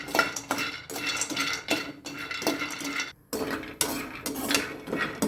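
Dry fruits roasting separately in a metal pan, a spoon or spatula scraping and clattering against the pan in repeated bursts, close and fairly loud, with a brief pause near the middle.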